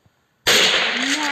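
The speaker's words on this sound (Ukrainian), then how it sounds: "І тепер стріляємо." A single loud, sharp gunshot in a Roblox roulette game bursts out of near silence, followed by a lingering crackling tail with a faint rising whine.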